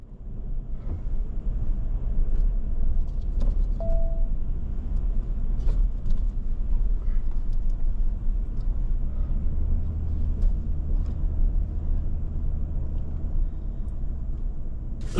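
A car drives along a Texas road, heard from inside as a loud steady low rumble of road and engine noise with faint clicks and rattles, and no talking.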